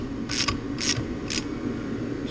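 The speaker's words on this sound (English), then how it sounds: "I'm gonna tighten this thing down, and that is going to compress the spring down below the valve stem" Valve spring compressor tightened down on a Honda B-series VTEC cylinder head, giving three short, close metallic ratcheting bursts evenly spaced over a low steady background.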